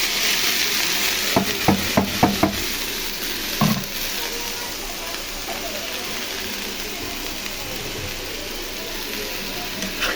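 Coriander leaves being stirred into a frying curry of Malabar spinach, a steady loud sizzle with a cluster of quick scraping stirs and a clunk, then continuous frying hiss.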